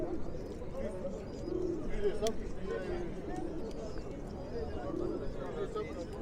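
Pigeons coo softly at Edirnekapı bird and pigeon market among bustling background chatter, with people talking nearby throughout.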